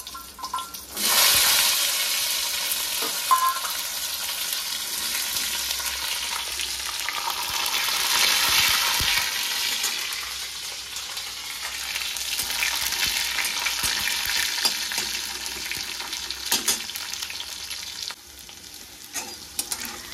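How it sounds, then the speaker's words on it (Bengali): Peeled whole garlic cloves drop into hot oil with nigella seeds and dried red chillies, bursting into a loud, close sizzle that keeps crackling and bubbling steadily. "এই রসুনগুলো হালকা হালকা ভাজা হয়ে গেছে,"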